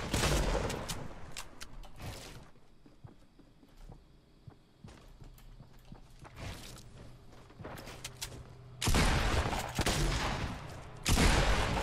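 Gunfire from Fortnite Battle Royale comes in sharp bursts, rapid clusters of shots at the start, scattered single cracks through the middle, then dense loud volleys near the end.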